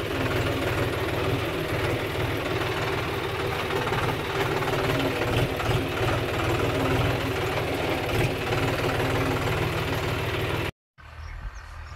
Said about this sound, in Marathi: तिकडच्या साईडला चालली आहे स्वराज, इथपर्यंत आवाज येतोय